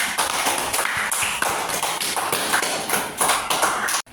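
A classroom full of students applauding a classmate, dense rapid hand claps sustained for about four seconds at steady loudness, then stopping abruptly.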